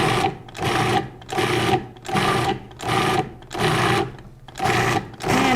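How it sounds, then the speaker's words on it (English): A food processor pulses shrimp, fresh herbs, salt, pepper and cream cheese into a mousse, with seven loud, even bursts of motor whirr separated by short pauses. "now we're going to pulse this to create our mousse"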